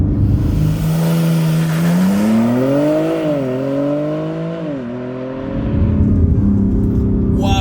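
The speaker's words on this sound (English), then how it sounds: "When you spool the turbos, it's automatic and it just tosses you in your seat." A 2023 BMW M3 Competition launches hard on launch control, its turbocharged engine note rising through revs, dipping briefly at a gear change and climbing again, loud and close from inside the car before easing off.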